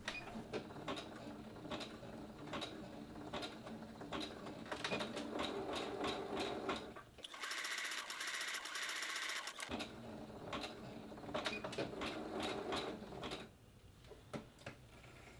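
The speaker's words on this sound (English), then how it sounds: "pull the edges of the dart together and zigzag stitch them together" A sewing machine zigzag stitches the pulled-together edges of a dart in the batting layers of a shoulder pad, running as a steady rapid mechanical clatter with a brief pause and a shift in tone partway through.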